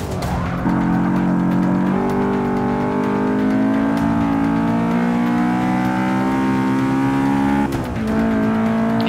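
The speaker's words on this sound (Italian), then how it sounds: "Vi faccio sentire un po' il motore di questa Honda" A Honda S2000 CR engine in the Forza Motorsport 6 racing game revs hard and steadily for several seconds, its pitch stepping up through the gears with a brief dip near the end, loud and close with no voices.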